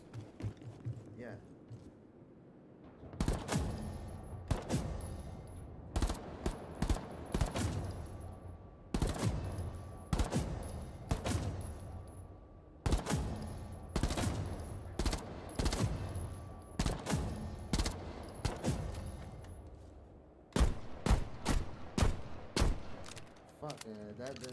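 Rapid, close gunfire bursts from the mobile video game Rainbow Six Mobile on a phone. Clusters of sharp shots repeat through the whole stretch with brief gaps between them, over low game ambience.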